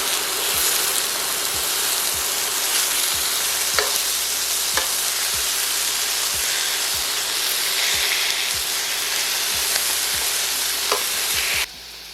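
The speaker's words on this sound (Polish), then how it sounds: "i zaczynamy smażenie. Smażymy na złoty kolor" Continuous loud sizzling of ham frying in a pan, with occasional soft clicks and scrapes, then cutting off abruptly near the end.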